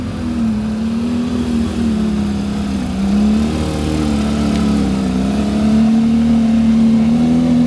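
A sports coupe's engine runs loudly and steadily up close, holding a constant drone with slight rises and dips in pitch, alone with no voices.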